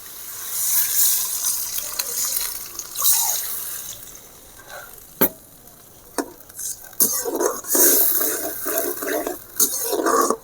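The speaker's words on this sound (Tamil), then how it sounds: "இப்போ கொஞ்சம் தண்ணி ஊற்றிக்கலாம்." Water poured into a pan of lightly sautéed chopped apples for apple thokku, hissing and sizzling in bursts with stirring clatter and a few sharp clicks.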